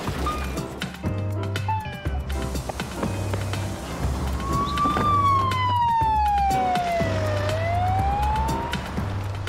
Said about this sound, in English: One siren and a policeman later, science lost two great minds to the long arm of the law.